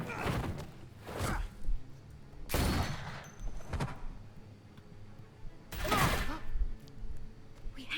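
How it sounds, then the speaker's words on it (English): Several loud bursts of gunfire crack out at irregular intervals in the video game The Walking Dead Season 3, separated by quieter stretches with faint voices and low rumbling. "I hear gunfire."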